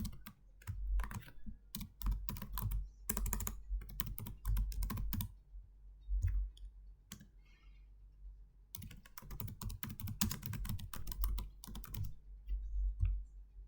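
Keys clatter in quick, irregular bursts on a computer keyboard while a registration form is filled in, close and fairly quiet, with short pauses between runs of typing and no talking.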